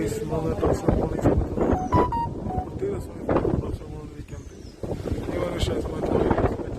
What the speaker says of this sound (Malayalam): നല്ല കാറ്റടിച്ചിട്ടുണ്ട്